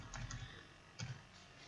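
A few quick keystrokes tapped on a computer keyboard, quiet and close, in two short bursts separated by a pause.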